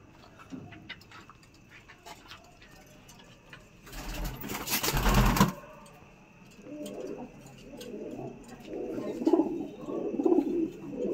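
Pigeons coo in a loft of pet racing birds, with a loud burst of fluttering or rustling near the middle and soft, low cooing that repeats more clearly toward the end over faint background noise.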